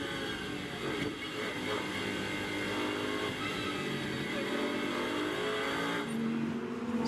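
Lamborghini Super Trofeo race cars rolling over the line at Zandvoort under yellow flags, a steady, loud engine drone of many cars with no break, shifting slightly in pitch near the end.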